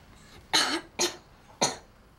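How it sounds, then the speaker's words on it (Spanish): A boy coughs three times in a doctor's examination, close and fairly loud, each cough short and raspy with brief pauses between. "Tose."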